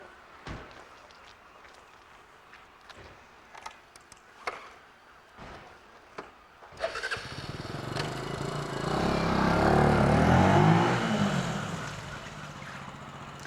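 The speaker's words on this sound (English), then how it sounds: "So we have the start and ride and stop on the Benelli TNT." A Benelli TNT motorcycle starts, then roars away and passes close, the engine swelling loudly before fading. Scattered clicks and knocks come first.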